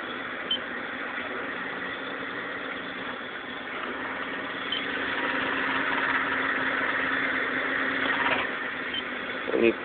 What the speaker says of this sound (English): My clutch is making this damn noise and I can't figure it out.